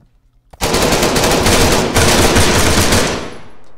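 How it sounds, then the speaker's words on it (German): Loud, continuous automatic gunfire from the video game Arma 3 erupts suddenly after a near-silent moment and rattles on without pause for about three seconds before tapering off. "Wir haben uns beide gegenseitig in den Tod geschossen."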